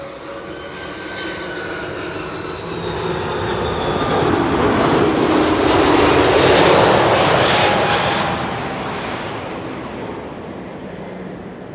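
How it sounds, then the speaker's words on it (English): A KLM Airbus A330-200 jetliner arriving from Bonaire to land at Schiphol, its engine roar swelling as it passes close overhead, peaking mid-pass and then easing away with no voices. "KLM flight 765, A330-200, arriving from Bonaire."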